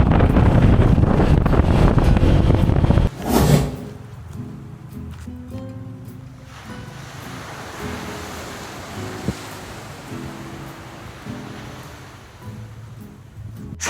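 Wind roars loudly against the microphone for a few seconds, then drops away to a quieter outdoor background with faint distant rumbling.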